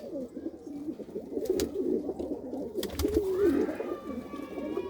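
Brown Makhiale pigeons in a loft coo steadily, a dense, continuous rolling murmur from several birds close by, with no talk over it.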